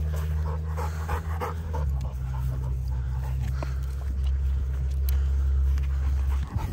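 An XL Pitbull pants in quick, steady breaths over a constant low rumbling hum, with a few faint whimpering sounds and no talking.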